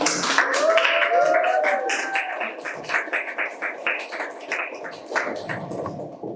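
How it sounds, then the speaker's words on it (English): An audience at a masterclass claps to welcome a speaker, with loose, scattered clapping that starts dense and thins out. A voice cries out briefly near the start. "With a round of applause, shall we please welcome Engineer Mrs. Elon Charlie."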